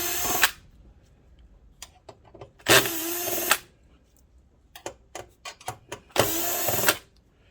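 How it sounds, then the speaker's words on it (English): Screws being backed out of a JVC DLA-RS57U LCoS projector with a power drill: three loud whirring bursts, each under a second, separated by quieter clicks and handling taps. "Basically, just take out all the screws on this side."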